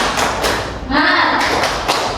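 A third-grade class claps a rhythmic spirit clap in a classroom, with loud, close, sharp bursts in a quick pattern and children's voices chanting along.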